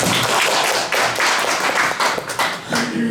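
A lecture audience applauding to welcome a university professor at a local history talk, loud, dense clapping from many hands, sustained throughout with slight fluctuations and no speech over it.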